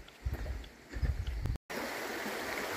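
Small stream flowing through a valley, a steady outdoor water wash with low gurgling bursts, broken by a brief cut and then a more even rushing texture.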